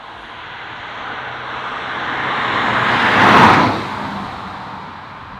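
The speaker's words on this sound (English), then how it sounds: "This is a 187 horsepower 2-litre turbocharged diesel." A 2021 BMW 420d with a 187 horsepower 2-litre turbocharged diesel drives past, its engine and road noise building steadily to a loud close pass, then easing off as it moves away, with no voices.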